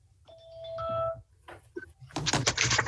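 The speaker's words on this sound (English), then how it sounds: "Oh, my doorbell for a minute." A doorbell chimes in a home during an online board meeting, a clear two-tone ding-dong with sustained ringing tones, followed by rustling and movement noises.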